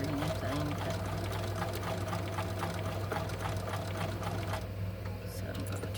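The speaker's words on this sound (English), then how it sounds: "I'm going to kind of sew it so it will stay down and it won't twist" Sewing machine stitching through very thick fabric for a cuff bracelet, running steadily for about five seconds with rapid, even needle strokes over a constant motor hum, then stopping near the end.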